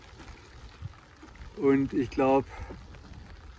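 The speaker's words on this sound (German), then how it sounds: "So, wie ihr seht, jetzt regnet es hier wie gestört." Heavy rain at Brombachsee lake during a fishing trip makes a constant low hiss, while a voice briefly speaks over it.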